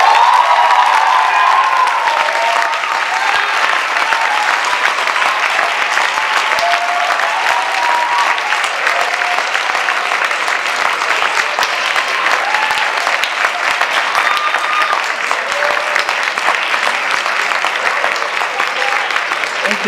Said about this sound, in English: I was just checking while you were clapping to see who was tapping